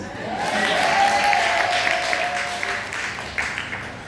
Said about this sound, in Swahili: Pigeni makofi basi.